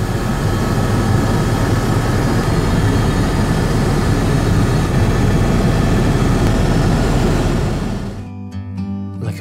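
A helicopter flies over the Grand Canyon, its loud, steady engine and rotor roar filling the cabin before fading as music takes over at the end.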